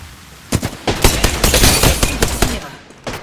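Rapid video-game gunfire in a squad shooter, a dense burst of loud, close shots with uneven rhythm over about two seconds before stopping.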